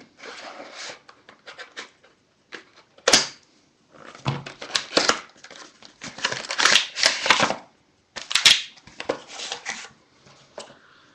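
Scissors snip through tape on a Duel Masters DM-10 starter deck in crisp bursts, mixed with rustling and crinkling of packaging, close and intermittent, no voices.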